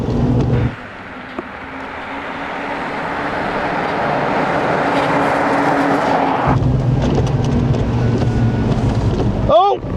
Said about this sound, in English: The mud tyres on this are deafening.